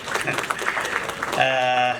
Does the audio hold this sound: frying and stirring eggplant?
no